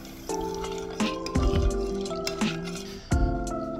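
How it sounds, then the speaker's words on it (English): A spoon stirs macaroni noodles in water inside a large microwave-safe container, giving wet squishes and light clinks of pasta against the sides in a few close, uneven strokes, with no talk. "And give it a good stir."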